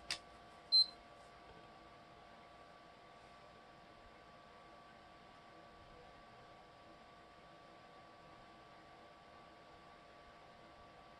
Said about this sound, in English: When it finishes, you hear a beep and then press X.